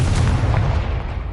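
A Confringo fire spell blasting in Hogwarts Legacy, one short, heavy explosive boom with a deep low rumble that quickly trails off.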